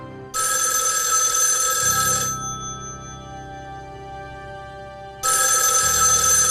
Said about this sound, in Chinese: 曾督察房间为什么没有人接听电话呀